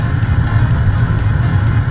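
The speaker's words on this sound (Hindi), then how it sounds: "तो गाड़ी को थोड़ा भगाएंगे ज़ोर से" A car driven hard and fast, picked up on an SJCAM 4000 action camera's internal mic, giving a steady loud low engine drone with rumbling road and wind noise throughout, no voices.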